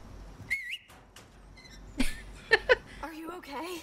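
Leon whistles in the Resident Evil 4 (2023) remake, short bright tonal whistle bursts scattered among other game sounds, with a voice speaking around them.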